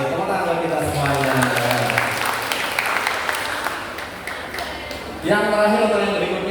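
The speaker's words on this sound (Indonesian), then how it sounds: "tepuk tangan kita semuanya" Audience applause at a school community halal bihalal gathering in Magetan, a broad steady wash of clapping that dips slightly before swelling again, with voices mixed in underneath.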